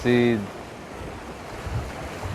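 Wind and sea waves wash steadily at sea, a broad rushing noise with gusts, after a brief tonal call at the start.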